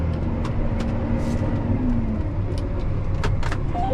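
A John Deere 7R350 tractor reverses with a steady, loud engine drone and faint rattles and clicks, no talk over it.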